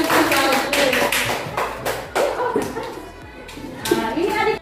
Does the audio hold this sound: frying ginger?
no